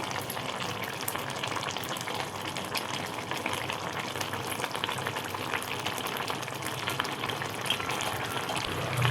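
Crab curry in a pan gives off a steady, soft sizzling and bubbling throughout, a constant low hiss at fairly close range with no voices.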